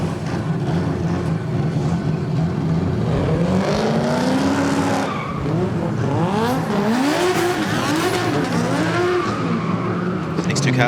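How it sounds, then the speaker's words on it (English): Drift race cars at the D1NZ Pro-Sport Restricted Class grand final at Baypark rolling out onto the circuit, engines revving and rising in pitch with tire noise, loud and steady under a commentator's voice. "Cars make their way out onto the circuit."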